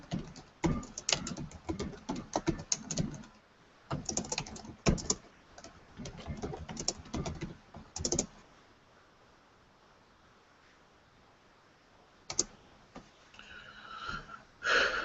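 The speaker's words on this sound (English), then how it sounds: "I'm gonna type in here." Computer keyboard typing in bursts of quick, uneven keystrokes, close and fairly quiet, with pauses and a long gap of near silence before a few more taps near the end.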